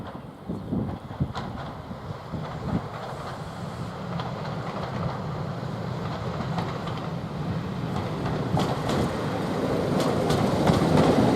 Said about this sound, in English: Now at Quorn we see the Class 101 again on its return trip with a Loughborough bound train.